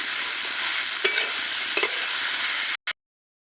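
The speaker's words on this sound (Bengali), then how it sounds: "এবারে আমি সব কিছু নেড়ে চেড়ে আর একটুখানি ভেজে নেব।" Fish head and khesari greens frying in a pan, a loud, close, continuous sizzle broken by a couple of sharp stirring scrapes before it cuts off abruptly.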